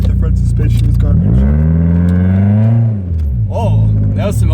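A 1997 BMW Z3 with a loud exhaust drives and revs, its engine note sweeping up and then settling back down, loud and close throughout, with a person talking over it.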